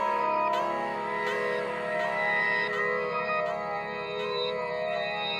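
A classic 90s boom bap beat melody with strings and reversed horns plays alone, with swelling sustained tones and regular hits recurring roughly every three-quarters of a second, soaked in echo.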